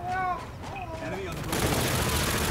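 Gunfire in the shooter Call of Duty: Infinite Warfare arrives as a loud, dense burst of rapid shots in the second half. A voice talks over the first part.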